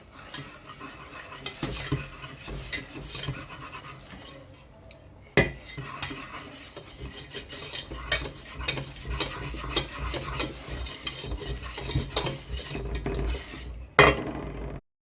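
A spatula stirs 40 grams of flour into melted butter in a pan for a béchamel roux, giving continuous scraping and clinking with soft sizzling. The sound is close and steady, with a few sharper knocks and no talking.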